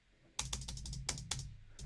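Computer keyboard typing captured through a Rode boom-arm microphone: bursts of close, crisp key clicks in quick clusters with short pauses, no talking.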